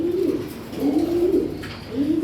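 Hudhud bloodline racing pigeons coo close by in low, rolling throaty phrases, three or four swelling calls in a loose rhythm with no voices over them.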